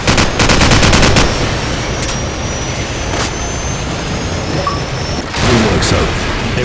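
Gunfire in the Call of Duty 4: Modern Warfare video game, a loud rapid burst of automatic shots at the start, then a steady rumbling battle bed with scattered single shots and another burst near the end.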